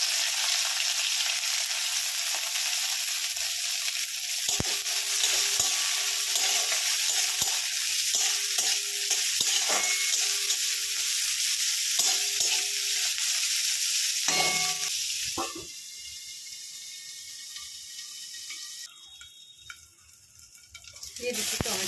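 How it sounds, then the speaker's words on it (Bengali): Nigella seeds, green chilli and chopped onion fry in leftover fish-frying oil, a loud steady sizzle with stirring clatter throughout before it quiets near the end. "মাছ ভাজার তেলের মধ্যে দিয়ে দিচ্ছি কালো জিরে, কাঁচা লঙ্কা,"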